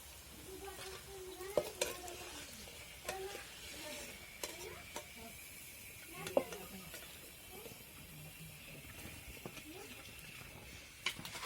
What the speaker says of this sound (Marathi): आता शेवटचे दोन चार वडे राहिलेले आता मी टाकून दिले कढईमध्ये